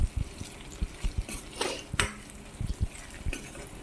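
A metal spoon clinks and scrapes against a pan while turmeric is stirred into onions frying in oil for an egg and onion curry, in sharp, irregular knocks over a soft sizzle, with no talking.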